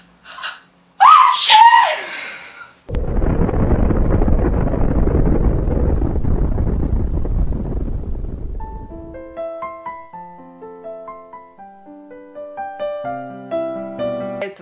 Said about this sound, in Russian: Да, это миф, что человек не может чихнуть с открытыми глазами.